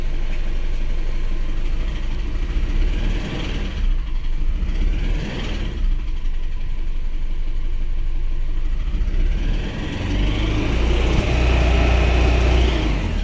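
An Isuzu Alterra engine misfiring from a fuel injector group B low-voltage fault, idling with an uneven, stumbling rumble that swells into a louder rev toward the end, no talking.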